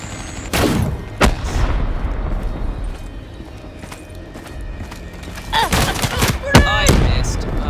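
Gunfire from a weapon in the video game Black Ops 3: a few sharp, loud shots early on, a quieter stretch, then a denser cluster of cracks near the end over steady in-game background noise.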